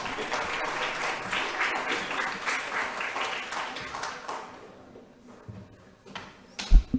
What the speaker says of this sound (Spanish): un aplauso para el doctor Sixto Moya